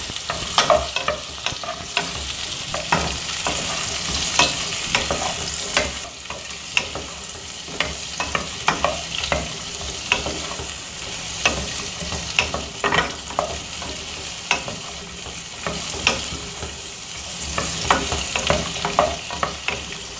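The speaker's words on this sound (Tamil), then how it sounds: "நல்லா வதக்கிக்கலாங்க" Garlic cloves, green and red chillies and curry leaves sautéing in a pan for chow chow chutney, an even sizzle broken by frequent clinking spatula strokes and stirring, close up with no talking.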